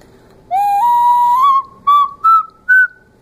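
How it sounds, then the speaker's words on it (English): A raku-fired clay whistle played through its mouth opening: one long clear tone rising in small steps, then three short higher toots, loud and close against silence. "This one whistles out the mouth, but could have also whistled out the tail."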